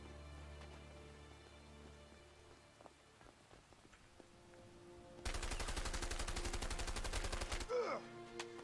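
Gunshots in the video game A Way Out, heard as a quiet scene with scattered small impacts, then a loud sustained burst of rapid automatic fire lasting a couple of seconds before it abruptly stops.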